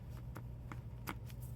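A small tail piece is snipped off a soft handmade journal cover, giving a few faint, crisp cutting snips spaced across a steady low hum, with no talking.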